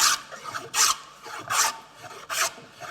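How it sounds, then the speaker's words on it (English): A converted Stanley scrub plane shaves wood in three steady, evenly spaced strokes, each a rough, rasping swish close at hand with quiet gaps between them. "I'm going to back the iron off so I'm not taking a massive shaving"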